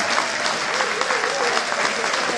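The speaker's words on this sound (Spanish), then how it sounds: "Y un aplauso para nosotros mismos" An audience claps and applauds steadily and loudly throughout, with a few voices mixed in.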